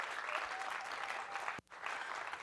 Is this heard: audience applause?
yes